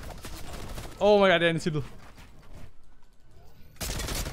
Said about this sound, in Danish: Slap af med den fucking minigun altså.